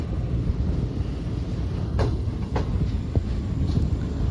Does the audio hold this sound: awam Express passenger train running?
yes